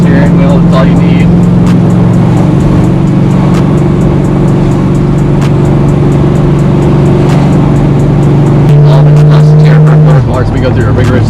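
A 1966 Chevelle with a 350 engine cruises along, its steady low engine drone loud and close inside the car, shifting pitch near the end.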